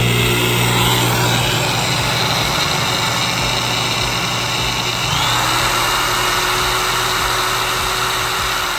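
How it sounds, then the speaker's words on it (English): Electric metal shears run off an ALLPOWERS S2 portable power station, their motor holding a loud, continuous buzzing whine close by for the whole stretch, with no one talking. "Let's check out these metal shears."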